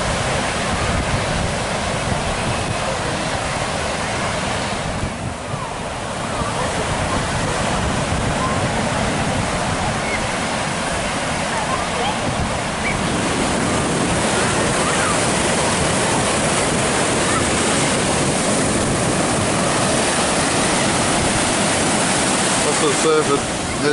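Surf breaking at Mooloolaba main beach on a sunny day, a loud, steady wash of roaring wave noise close by with gentle swells in intensity throughout.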